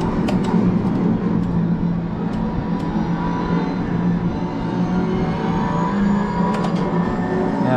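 Race car engine from Assetto Corsa Competizione drones steadily through a lap, a loud, continuous tone rising and falling with speed and a few sharp ticks over it, with no talk.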